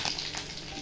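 Cumin seeds and garlic sizzling in hot oil in a kadhai on a gas stove, a soft continuous crackle and hiss heard alone and fairly quiet.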